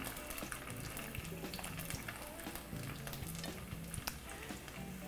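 Smelt fillets frying in hot oil in a pan, a dense continuous sizzle with crackling spatter pops, close and steady throughout, no voices.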